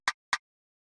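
A clicky, odd percussion sample in a dark trap-style beat fires twice in quick succession, two sharp dry clicks about a quarter second apart, isolated with silence after.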